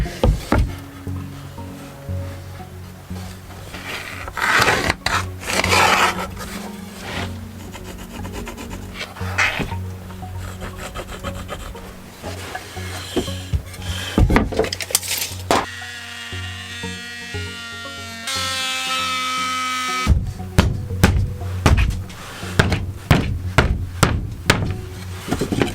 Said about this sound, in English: So I'm going to get this sink cut in now.